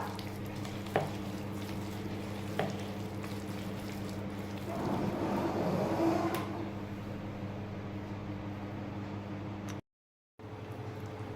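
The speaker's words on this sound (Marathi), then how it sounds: "तेल छान गरम झालेलं आहे. त्यामध्ये भजी तळून घेऊया." Corn bhaji fritters frying in hot oil in a kadhai, a steady low crackling sizzle that swells briefly midway, then cuts out for a moment before resuming.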